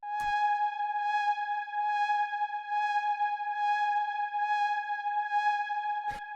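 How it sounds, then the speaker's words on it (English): A steady synthesizer drone holds one sustained note with a bright, buzzy tone and a gentle pulsing shimmer, framed by short clicks at the start and end. "the first sound I have here is this drone"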